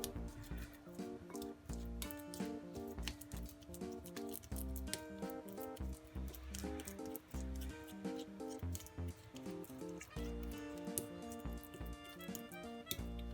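Half a banana is mashed for eggless baby pancakes, a quiet close run of soft squishing and tapping strokes in an uneven rhythm, with no voices.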